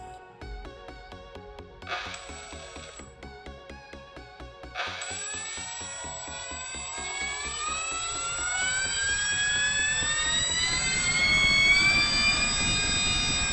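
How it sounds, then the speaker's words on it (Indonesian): The electric motor of a TOPRC Tempest 800mm RC airplane starts with stepped beeps, then spins up into a rising, smooth whine that climbs steadily in pitch and volume, heard close with no talking. "Lumayan halus ya suara motornya ya."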